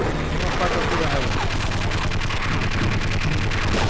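Rapid gunfire in the Half-Life video game, a dense burst of shots with booming low thuds repeating across about four seconds, loud and close.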